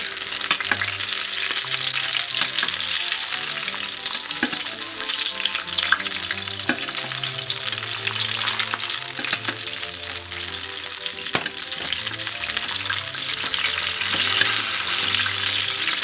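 A sous vide rack of lamb sizzles steadily in a tilted pan with a cup of garlic cloves while fat is spooned over it, producing a loud continuous hiss with scraping and clinking of the basting spoon throughout.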